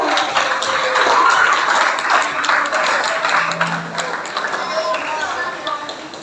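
Applause from a group of school students at SMPN 1 Gianyar, a dense, steady wash of clapping that fills the whole stretch at moderate loudness, with voices chattering faintly underneath.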